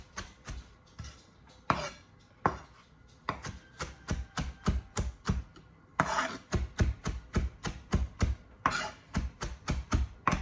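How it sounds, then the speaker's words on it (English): Rapid, steady knife chops through green scallions or chives on a cutting board, close and crisp, dozens of even strokes with a couple of brief pauses, no talking. "So chop up some green scallions or chives"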